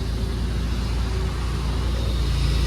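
Refreshed car engine idling steadily after an engine rebuild, a loud, constant low rumble with a rough, even pulse and no break throughout.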